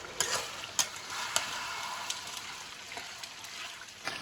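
Mutton sizzles in oil over a high flame for kosha, with a loud, dense frying hiss close by. Sharp clicks and scrapes come from stirring, and no one speaks.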